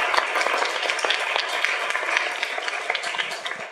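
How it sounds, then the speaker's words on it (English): An audience claps for the speakers at a panel event on creative producing, a dense, steady round of applause with many overlapping hand claps that continues throughout. "Shall we have another round of applause for the speakers?"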